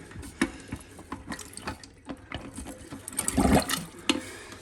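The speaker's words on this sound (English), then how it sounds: "It'll release a little water at first, and that's okay." Water rushes and gurgles as it drains from a toilet tank through the flapper, swelling into a louder gush near the end, with a few small clicks and drips around it.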